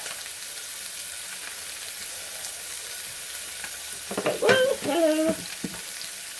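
Butter and hazelnuts sizzle steadily in a pan for a salmon dish, a soft continuous fry that a short burst of nearby talking briefly covers near the end.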